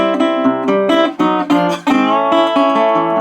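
A Hawaiian steel guitar plays a short run of sustained, harmonically rich chords that change every half second or so in an early-jazz turnaround, with no talking.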